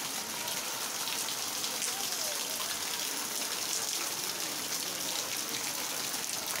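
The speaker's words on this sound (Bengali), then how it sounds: "এরকমটা যদি বৃষ্টি হয় অনবরত দিন যায় 24 ঘন্টা" Steady rain pours down in a dense, even hiss, drumming on surfaces nearby without pause for several seconds.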